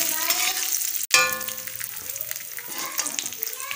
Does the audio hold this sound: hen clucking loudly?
no